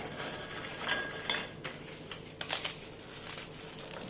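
Petit beurre biscuits are snapped by hand over a bowl for a mosaic cake, giving repeated dry cracks and crumbly crunches against a steady room hiss.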